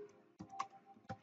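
Keys clatter on a computer keyboard in a short, uneven burst of clicks, close and fairly quiet, with no talking.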